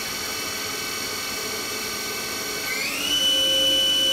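A Haas VF-6 vertical machining center's spindle whines steadily at 3,000 RPM, a bright layered tone that climbs in pitch and grows slightly louder near the end as the spindle speeds up.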